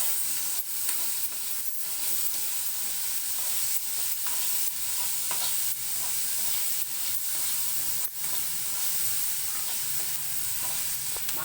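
Tomatoes fry in a pan for egg bhurji with a steady, moderately loud sizzle, punctuated by periodic stirring scrapes and a few sharp pops.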